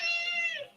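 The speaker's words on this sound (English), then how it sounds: "Yes, Kitty is back once again." A cat gives a single drawn-out meow lasting under a second, fairly quiet and close, with no other sounds around it.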